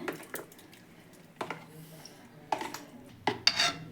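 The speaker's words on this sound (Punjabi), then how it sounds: "ਆਪਾਂ ਨੇ ਸਾਰੀ ਮਲਾਈ ਕੜਾਹੀ ਦੇ ਵਿੱਚ ਕੱਢ ਲਈ ਆ" Cream is scooped from a large pot into a kadai, giving a few soft, wet scraping clinks of a utensil against metal, spaced about a second apart and fairly quiet.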